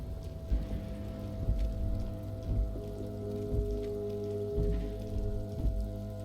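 Steady rain falls in the video game Disco Elysium, a soft continuous patter with scattered heavier drops and low droning ambience underneath, with no speech.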